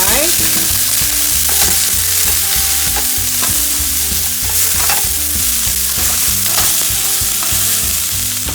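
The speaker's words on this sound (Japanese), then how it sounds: "で、ごぼうを入れます。 炒めます。 Stir fry." Burdock root is stir-fried in a pan, with a loud, continuous sizzle and the scrape of stirring close by, and music playing faintly underneath.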